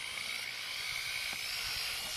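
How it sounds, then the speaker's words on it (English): A high, steady whine of a small power drill running continuously, close by, drilling a small hole in a 2008-2010 Honda Accord Coupe rear bumper, with faint low knocks underneath. "you drill a little small hole"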